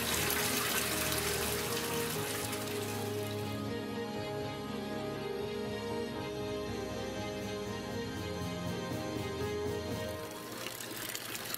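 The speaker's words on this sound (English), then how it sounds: "The water flow coming out of the barrier is slowing down considerably." Water flows and splashes steadily for several seconds out of a pump-through hydrocarbon rainwater filter barrier, a constant rushing pour with no voices.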